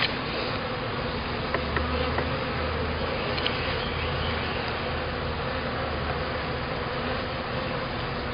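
Honeybees buzzing steadily and densely around an opened hive during a spring inspection, a close, continuous insect drone with no talking.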